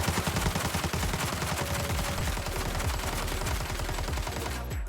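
Sustained rapid automatic gunfire from a weapon in the video game Arena Breakout. Dense, loud shots repeat at a steady fast rhythm for nearly five seconds and cut off abruptly at the end.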